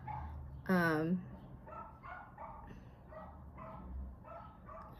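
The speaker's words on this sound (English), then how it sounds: "that dog barks at everything." A neighbor's dog lets out a single loud, close bark near the start, followed by quieter talking that continues over a faint background hum.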